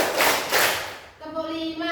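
A couple of sharp hand claps ring out close by, followed by a voice speaking.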